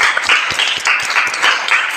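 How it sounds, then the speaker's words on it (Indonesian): Small group of students in a classroom clapping together, close and loud, with quick rhythmic claps and a few voices calling out over them. "tepuk tangan untuk kita semua"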